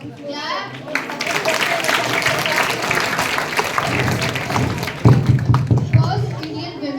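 A group of children claps at a Saturday classroom quiz after a correct answer. The applause rises amid lively chatter from the kids and ends in a burst of hearty, rhythmic hand claps close by.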